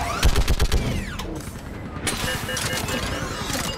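Gunfire in Mass Effect Legendary Edition: a quick burst of sharp, rapid shots opens the clip, followed by continuing battle noise and further firing, with voices mixed in.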